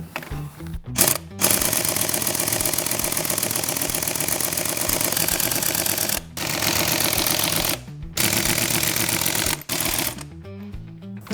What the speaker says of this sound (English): Should we try the 1/2-inch air impact that we've got?